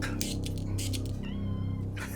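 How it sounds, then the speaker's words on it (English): A cat meows close by, a short drawn-out cry that rises and falls, with faint background noise around it. "I think I squirted the cat."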